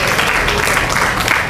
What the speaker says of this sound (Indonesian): tepuk tangan untuk Fatir